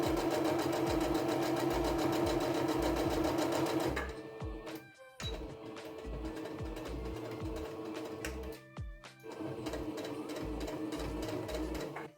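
Sewing machine stitching a square tablecloth, a steady rapid motor whir with rhythmic needle clatter, pausing briefly twice for short stop-start bursts of back-and-forth stitching, close and clear with no talk.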